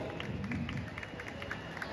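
A festival crowd claps steadily at an evening stage event on the Chambal river front in Kota, with a dense, even patter of many hands heard at some distance and light murmuring underneath.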